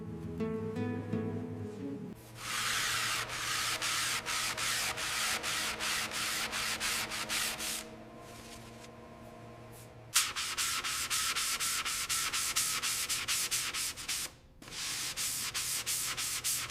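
Steady abrasive rubbing of sanding on a 1937 Chrysler Airflow Coupe's body, over guide coat, continues in long strokes, briefly pausing twice, with a faint mechanical hum underneath.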